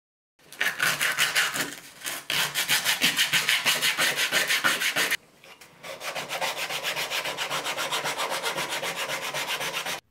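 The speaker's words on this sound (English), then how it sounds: "Then we smooth the gripstick surface with sandpaper." Sanding a 3D printed glider remote grip stick with 100 grit sandpaper, rapid rhythmic back-and-forth rasping strokes close up, a brief pause midway, then steady strokes resume.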